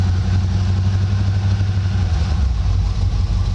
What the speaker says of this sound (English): So it's idling right now. You can hear it's a quiet engine.